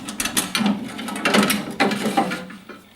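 Grease Guardian collection bucket being removed, a series of close plastic clunks, scrapes and rattles in irregular bursts.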